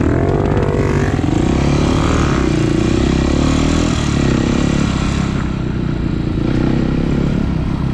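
A motorcycle fitted with a new Akrapovic exhaust revs loudly and steadily for the whole stretch, its deep engine note rising and falling close by, with no talking.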